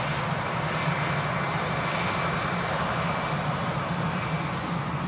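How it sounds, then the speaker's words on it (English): A Eurowings airplane touches down on a runway with a steady, broad jet roar that sounds somewhat distant and holds even throughout, with no talk. "Eurowings touching down."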